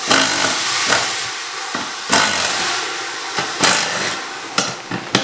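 Air hissing out of a race car tyre after the beadlock is undone, heard as loud, close bursts of rushing hiss broken by brief pauses and a few sharp knocks.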